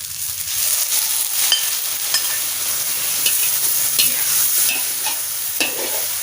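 Gourd and egg stir-fried in a pan after a splash of water goes in: a steady, close hiss of sizzling with repeated scraping of the spatula, no voices.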